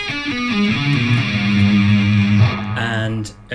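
An electric guitar sweep-picks a diminished arpeggio shape, notes tumbling quickly up and down in a smooth, slightly overdriven run, clear and close.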